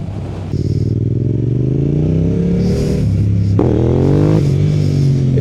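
A Yamaha R7 motorcycle revs hard and accelerates into a small power wheelie, its engine note climbing in rising harmonic sweeps with a brief gear change midway, loud and close with no talk.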